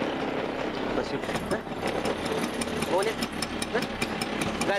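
An old scooter engine that has just started, idling with a rough mid-pitched running sound and some knocking, while people talk over it.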